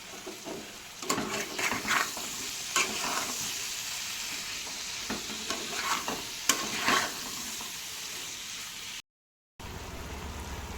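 Chicken pakoras tipped into a sizzling sauce in a pan, with steady frying hiss and clattering stirring scrapes throughout, a brief silent gap near the end before the sizzle resumes.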